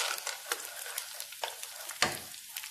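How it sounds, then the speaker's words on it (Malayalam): Chickpeas tossed into browned onions in a frying pan for a quail biryani, sizzling steadily close up, with bursts of stirring scrapes and a sharp clatter about two seconds in. "അണ്ടിപ്പരിപ്പിന് പകരമാണ് നമ്മൾ കടല ചേർക്കുന്നത്."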